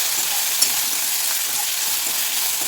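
Steady hiss of spices tempering in hot oil for upma, continuous and close, with a faint clink near the start.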